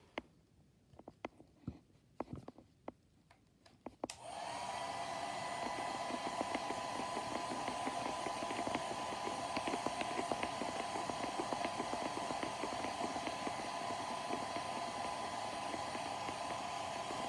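A handheld hair dryer blows on a holiday ornament, switching on after a few seconds of light tapping and handling, then holding a loud, steady whooshing whir close by until the end.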